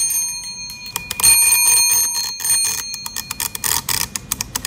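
A small hand bell of the kind used to buzz in during a logo guessing game rings in rapid repeated dings, loud and close, ending in a burst of quick taps.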